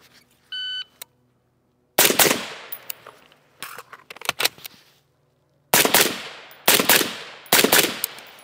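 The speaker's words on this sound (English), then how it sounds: "after that reload, first shot right went right where I wanted it" Gunshots crack at a shooting range, two loud close shots, a pause for a reload, then scattered quicker shots and three more sharp reports, each ringing out briefly; a short electronic beep sounds at the start.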